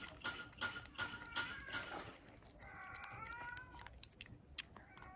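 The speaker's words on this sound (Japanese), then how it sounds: "泣いてるね、にゃんこが。 にゃんにゃんにゃんってね。" A stray cat living in a parking lot meows repeatedly nearby in quick successive cries, followed by a longer wavering meow, with quiet outdoor background.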